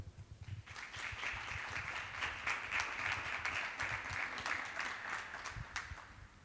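Audience applause at an architecture networking event in a Porcelanosa showroom in Huelva: a crowd of hands clapping steadily from near the start, fairly distant and even, with a few low bumps underneath and a slight fade at the end.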